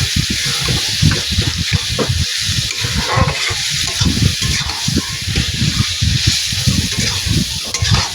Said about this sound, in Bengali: সিদ্ধ করা কচু শাকটা এর ভিতরে এখন দিয়ে দেবো। দিয়ে ভালো করে নাড়াচাড়া দিয়ে এটা সুন্দর করে রান্না করে নেব।